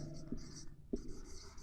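A pen scratches out a short math answer on paper, two quick bursts of writing strokes split by a brief pause, close and soft.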